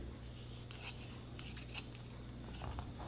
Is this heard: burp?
no